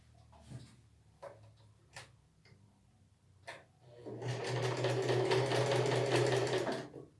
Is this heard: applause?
no